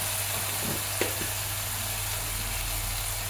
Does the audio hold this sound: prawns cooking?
yes